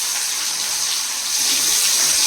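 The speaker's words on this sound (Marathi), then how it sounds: "आता याच्यामध्ये ही जी कारली आहे ही आपल्याला डीप फ्राय करून घ्यायची आहे" Bitter gourd pieces deep frying in hot oil on a gas flame, a steady loud hiss and crackle of bubbling oil that runs without pause, with no talking.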